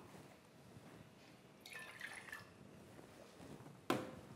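Water is poured into a pot for éclair choux pastry dough. There is a faint, quiet trickle with some sloshing over about a second, then a short clunk of a container near the end.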